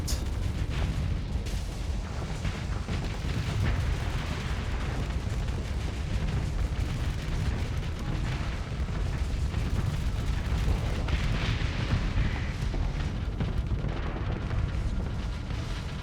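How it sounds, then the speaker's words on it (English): Missile explosions rumble continuously during a space battle in the Starsector video game, a dense, steady roar of booms and blasts with no speech, loud from start to finish. "Oh, my missiles did manage to turn around."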